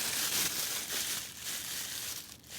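A plastic grocery bag crinkles and rustles up close while a package holding a Scream VI replica Ghostface mask is unpacked, with continuous bright crackling handling noise in uneven bursts and no talking.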